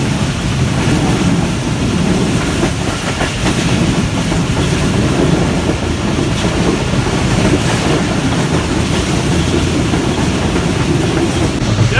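A train at Hyderabad railway station in Sindh, Pakistan rumbles loudly and steadily with rattling wagon clatter throughout, close and continuous, no voices.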